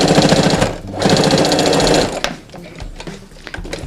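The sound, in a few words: sewing machine stitching elastic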